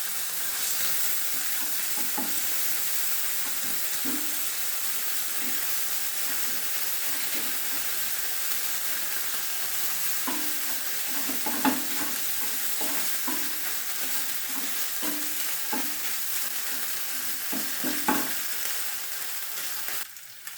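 Ginger paste, green chili and cumin seeds fry in oil in a pan, giving a steady, even sizzle with a few soft stirring knocks scattered throughout. No one speaks.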